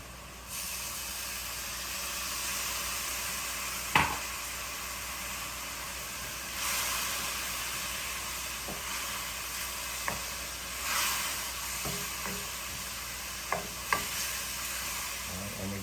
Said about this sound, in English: It's boiling around the edges.